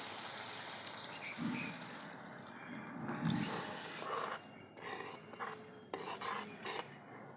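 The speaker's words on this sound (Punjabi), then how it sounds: "ਹੁਣ ਆਪਾਂ ਪਾਣੀ ਪਾਵਾਂਗੇ" Water poured into a pan of potato curry with frying masala, a quiet gushing splash with clinking utensil and stirring sounds, faint overall.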